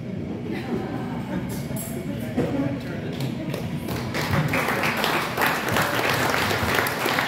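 Wedding guests at a lakeside pavilion applaud the best man, dense clapping with thumps and cheers that swells in the second half, voices mixed in underneath.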